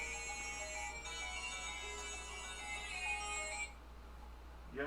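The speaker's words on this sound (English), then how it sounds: "Hold on a second. That's my phone." A mobile phone ringtone plays a steady, melodic electronic ring, loud and close with no talking over it, then cuts off abruptly near the end.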